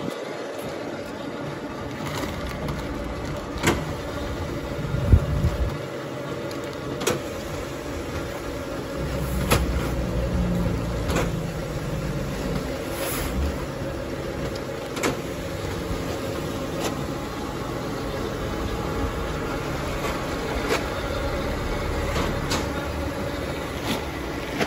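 A Baron conveyor running at half speed, feeding toward the end of a truck, gives a steady mechanical rumble with faint rattles and periodic clicks throughout, fairly close and continuous.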